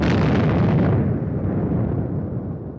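Cartoon explosion from a drone strike on Saudi Arabia, a loud full-band boom that rumbles on and slowly decays over about three seconds, with no voices.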